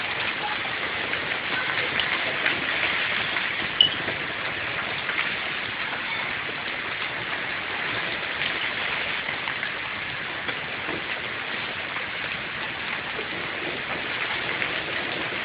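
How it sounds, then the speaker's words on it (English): Hail falls heavily in Tallahassee, a dense, continuous hiss and patter of stones striking surfaces and a tree, steady and close throughout. "That is the most significant hailstorm I have ever seen in Tallahassee."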